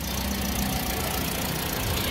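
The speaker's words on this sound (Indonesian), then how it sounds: "mesinnya juga udah nyala nih. Kedengaran kan bunyinya?" A used car's engine idles steadily and close up, a continuous even rumble with slight mechanical vibration and no talking.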